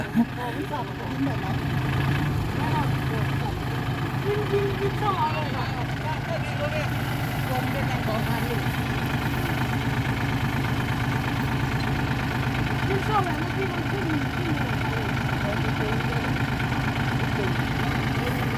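A Kubota L5018 tractor engine runs steadily while towing a John Deere 3036E, a continuous rumbling drone that stays loud throughout with faint background noise and no clear pauses.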